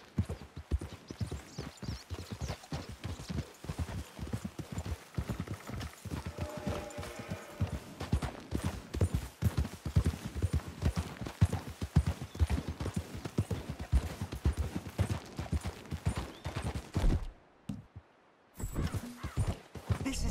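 Horse hooves clip-clop in a steady, even rhythm on a trail in the video game Red Dead Redemption 2, continuing for nearly the whole stretch before a brief drop-out and a few more steps.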